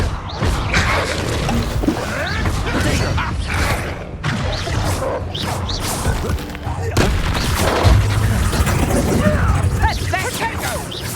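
Confringo blasting spells cast in the Hogwarts Legacy video game, repeated booming impacts and crashes amid busy combat effects, with a voice speaking over the action.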